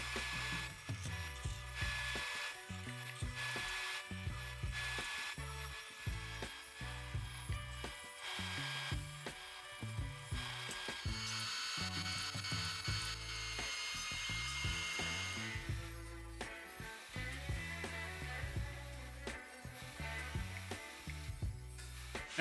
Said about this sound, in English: Let's cut them on the bandsaw.